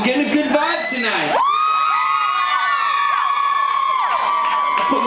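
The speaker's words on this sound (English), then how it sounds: "They are a rambunctious crowd, aren't they? They're pretty rowdy." A rowdy concert crowd whoops and cheers at a show, with piercing sustained yells rising over a loud continuous roar that holds steady from start to finish.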